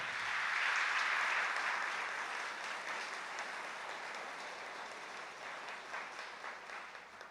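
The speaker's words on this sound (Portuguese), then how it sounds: "Salva de palmas para o Frei Galvão." Religious congregation at a novena service giving a round of applause, a dense, steady clapping that starts loud and gradually eases off while continuing throughout.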